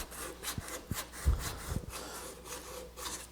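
Hand sanding a wooden charcuterie board with 150-grit paper along the grain, a series of short rhythmic rasping strokes, close and fairly quiet, with a few soft knocks.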